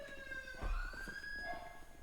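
Police sirens wail in FiveM GTA roleplay, a faint, continuous rising-and-falling tone heard from a distance, with a brief low thump partway through.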